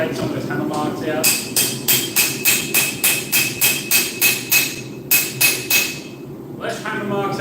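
Rapid, evenly paced hammer blows ring off steel, more than a dozen metallic strikes in a steady rhythm with a brief pause, up close over a low background hum, with a voice briefly at the edges.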